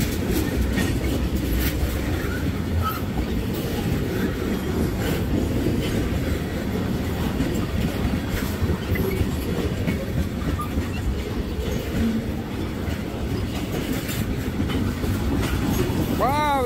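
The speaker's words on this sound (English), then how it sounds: "And that train's longer than I thought" A long petroleum freight train rumbles steadily past on the tracks, with continuous clattering wheels and a brief metallic squeal near the end.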